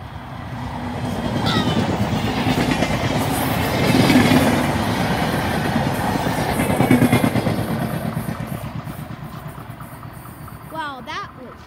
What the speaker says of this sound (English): we got eastbound train coming!